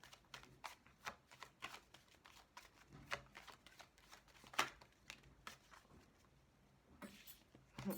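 Tarot cards are shuffled by hand to draw a card, producing a close series of soft, irregular flicks and riffling bursts, with one sharper slap partway through, in a quiet room.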